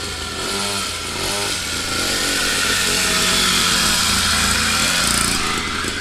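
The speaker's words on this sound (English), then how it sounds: "Yeah, little motorcycle's running." A small SYX Moto mini dirt bike engine runs steadily close by, a buzzy single-cylinder drone with no talk over it.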